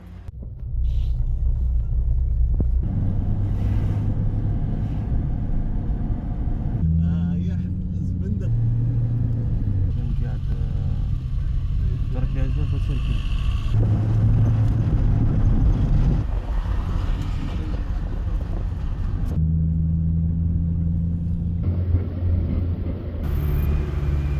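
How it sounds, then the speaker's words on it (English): Traffic at a bus and taxi station in Algeria: a continuous low engine rumble of cars and vehicles idling and passing nearby, with wind buffeting the microphone and people talking over it. "This is a just typical gare routière."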